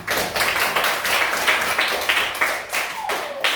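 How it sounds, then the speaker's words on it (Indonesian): A classroom of students claps for a group's presentation, a brisk, close burst of hand claps that stays fairly even and loud throughout, with no voices on top. "Tepuk tangan."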